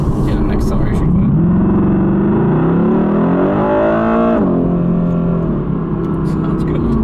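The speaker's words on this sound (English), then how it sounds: "Get an acceleration clip." A 2020 Mercedes-AMG GT with its V8 pulls hard from inside the cabin, the engine note climbing steadily through one long gear before a shift drops the revs and it builds again, loud and close throughout.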